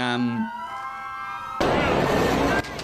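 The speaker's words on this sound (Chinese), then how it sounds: "即天又加上装甲车的警笛声" An armored vehicle's siren wails with a steady tone on a Los Angeles street during an immigration protest, followed by a burst of loud, rough crowd and street noise.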